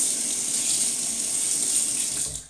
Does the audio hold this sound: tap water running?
yes